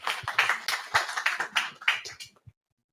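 A small audience at a tech gathering claps for about two and a half seconds, sharp and fairly close, then the clapping stops abruptly and silence follows.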